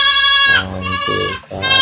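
Goats at a goat farm give loud, close bleats, a long wavering call followed by two shorter cries with a brief gap between them, no talk over them.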